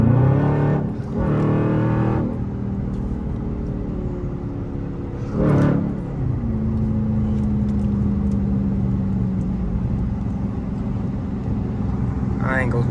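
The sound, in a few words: Dodge Charger Scat Pack accelerating hard on highway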